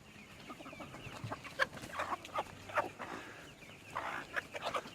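Chickens and turkeys cluck and chatter while pecking at bread scraps in a farmyard, a steady stream of close, overlapping clucks and calls with brief louder bursts throughout.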